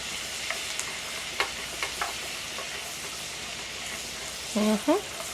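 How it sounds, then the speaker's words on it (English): Garlic frying in butter in a pan for a Southern green bean dish, a steady soft sizzle throughout with a few light clicks and a brief louder stir near the end. "So we need the butter. Let's add some garlic. Allow the garlic to toast up and become fragrant."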